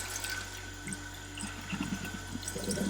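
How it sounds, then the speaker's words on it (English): Aquarium filter media from a Hygger filter rinsed under running tap water, a steady close wash of flowing water with soft splashes and trickles building toward the end. "we'll give the media a quick rinse"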